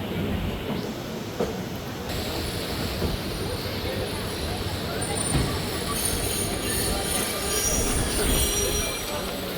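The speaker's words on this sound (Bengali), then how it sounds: "ঢাকা থেকে কক্সবাজার একটি চমৎকার জার্নি শেষ করে আমরা কক্সবাজার রেলওয়ে স্টেশনে এসে পৌঁছালাম" The Cox's Bazar Express pulls into Cox's Bazar railway station with a steady rumble of wheels on the rails. Rising high metallic wheel squeals build toward the end as the train slows.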